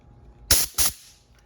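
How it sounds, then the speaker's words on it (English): Two short, loud blasts of compressed air blown through rinsed motorcycle carburetor parts on a Yamaha, each a sharp hiss of about a quarter second, separated by a brief pause, with no talking. "spray it off with compressed air to make sure once it's rinsed out"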